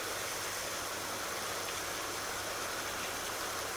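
A tractor engine idles in the video game Farming Simulator 19, a steady, even hiss with a low droning hum and no other sounds.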